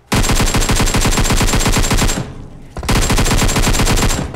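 Automatic weapon fire in the Free Fire video game, loud rapid bursts of shots in two long strings separated by a short pause.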